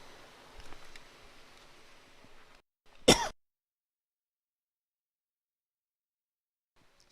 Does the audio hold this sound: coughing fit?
yes